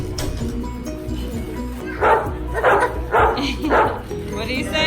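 Dogs bark in a run of four sharp, evenly spaced yips near the end, following a stretch of background commotion, with people talking around them at a family outing.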